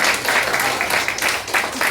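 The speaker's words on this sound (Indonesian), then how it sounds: "Ayo kita tepuk tangan." A church congregation claps hands together in a steady, dense wash of applause that runs continuously throughout, fairly loud and close, with no clear speech over it.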